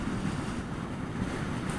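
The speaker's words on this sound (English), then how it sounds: "It's quite windy out today, so I do notice it being blown a reasonable amount." Wind buffets a rider on a Zero SRF electric motorcycle, a dense, steady, loud roar with no breaks.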